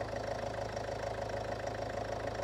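Range Rover Evoque engine idling steadily after a jump start, with a low, even hum and faint rhythmic ticking, close and constant throughout with no talk.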